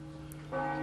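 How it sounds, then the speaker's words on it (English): Church bells ring across a town in Micronesia to call people to daily Mass, with a steady sustained tone that swells louder partway through and holds without any talk. "The bells to signal the beginning of daily Mass."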